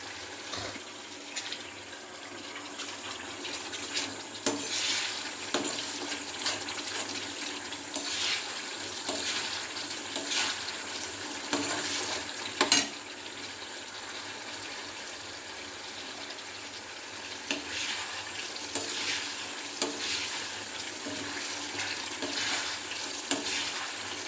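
Ginger-garlic paste deep-frying in oil for a pickle: a quiet, continuous sizzle and hiss, broken now and then by the scrape and knock of a spoon stirring the pan.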